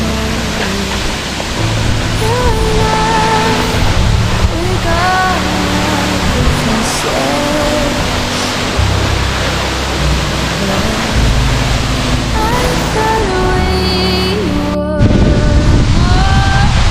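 Cachoeira do Chapadão, a waterfall, roars as a loud, constant broadband rush of falling water, steady throughout, with faint tonal sounds drifting over it.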